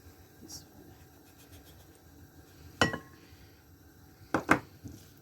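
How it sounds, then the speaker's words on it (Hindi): Gram flour being mixed into minced keema for pakoras in a bowl, with a couple of sharp utensil clinks against the bowl and soft scraping between them, close and fairly quiet. "तो अब इसमें मैं बेसन ऐड कर दूँगी।"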